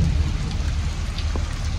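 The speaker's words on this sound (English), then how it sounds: "The rain is finally coming down, guys." Steady rain falling, a continuous dense patter with no voices, even and fairly close throughout.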